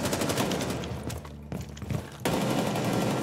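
Rapid gunfire in the video game Rainbow Six Siege, shots fired through a wall, comes as dense, loud overlapping bursts that dip briefly in the middle before resuming at full force.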